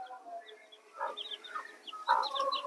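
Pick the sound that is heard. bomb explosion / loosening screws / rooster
rooster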